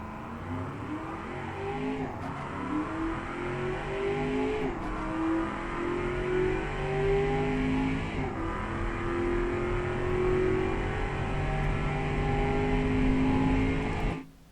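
A loud car engine revs and climbs through gears, its raw, unmuffled roar rising in pitch repeatedly with brief drops at each shift; a 1995 ESE Conqueror Mk II with a muffler removed, in a video game.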